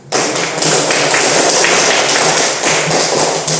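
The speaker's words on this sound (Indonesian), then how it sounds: "Oke, kita tepuk tangan untuk" A classroom of students clapping hands together on a teacher's cue, a loud, dense, continuous burst of applause lasting several seconds with no talking over it.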